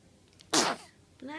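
A young child sneezes once, sharp and close, and an adult voice begins speaking right after.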